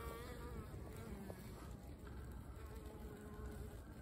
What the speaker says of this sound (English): And I have seen bees here going in with pollen.